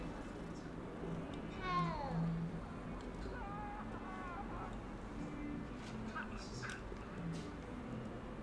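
A cat meows a couple of times in the Hogwarts Legacy video game, with short rising cries standing out over ambient game sound and background murmur.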